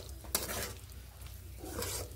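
Peas being sautéed with tomato and spices in a pan for a cauliflower dish, giving a soft steady sizzle with scraping stirs and a sharp utensil clink near the start.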